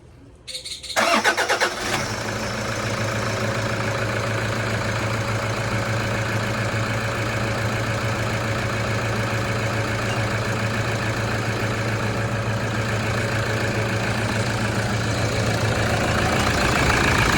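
A Toyota Hilux 3.0 is test-started after a timing belt and water pump replacement: a brief cranking burst catches into a running engine, which then settles into a steady, close, even idle hum that continues alone.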